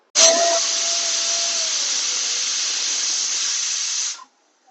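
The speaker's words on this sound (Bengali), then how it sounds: "এবার অল্প একটু নুন দিয়ে রাজমাটা সিটি লাগিয়ে নেব।" A pressure cooker boiling salted kidney beans lets off a loud, steady steam whistle that hisses for about four seconds and then cuts off sharply.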